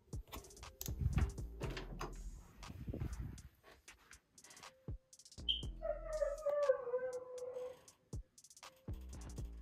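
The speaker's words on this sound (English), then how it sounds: "He's howling so much." A dog howls in a home in a few drawn-out, wavering bursts, with pauses and clatter in between.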